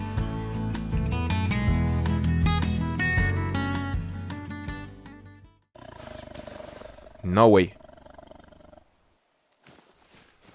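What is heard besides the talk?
tiger growling in video game theHunter Call of the Wild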